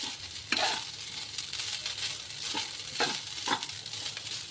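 Reheated food being stirred in a hot pan, a steady sizzle with several sharp scraping strokes of a utensil, close and moderately loud, no talk.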